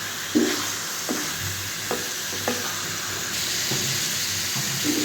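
Meat sautés in oil and a little water for morog polao, chicken pilaf, with a steady close sizzle and hiss. Occasional scraping stir strokes punctuate it throughout.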